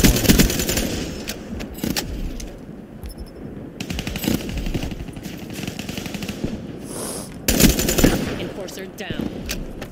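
Gunfire in the video game Call of Duty Black Ops 3, loud rapid automatic bursts and scattered shots coming in waves across the clip, with some voice mixed in among the shooting.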